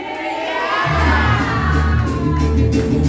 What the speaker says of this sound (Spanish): Vamos a decir el grito bien fuerte que se escuche.